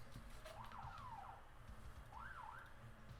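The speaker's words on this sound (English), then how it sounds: "Thing has sirens." A handheld horn device on its siren setting sends out two rising-and-falling electronic wails, a second or so apart, fairly faint over a steady low background.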